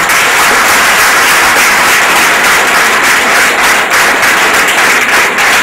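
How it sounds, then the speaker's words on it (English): An audience at a lecture by a High Court judge applauds with dense, sustained clapping that stays loud and steady for several seconds, and nobody speaks over it. "Please, all of you welcome sir with a great round of applause."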